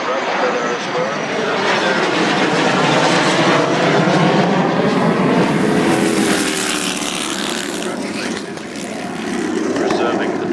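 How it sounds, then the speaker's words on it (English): Jet aircraft flying over Kemble airfield, Cotswold Airport in Gloucestershire, a loud continuous engine roar that swells and shifts in pitch as it passes, with a voice speaking underneath. "Preserving and developing these wonderful jet aircraft"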